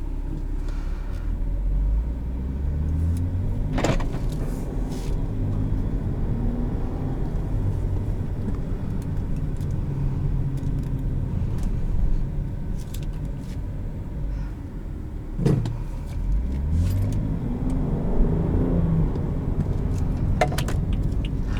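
A 2014 BMW 335i xDrive driving in Sport Plus mode: steady low engine and road rumble from inside the cabin, with a couple of rising gear-change sweeps, fairly loud and continuous.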